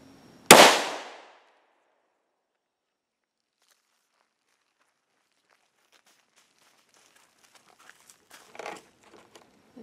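A single sharp, loud gunshot cracks out near the start, fired at a ballistic helmet during a test, then dies away into quiet, followed later by faint handling clatter and rustling.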